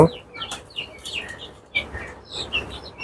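Lajja breed chickens on a poultry farm clucking and chirping in short repeated bursts, with several birds calling nearby at moderate loudness.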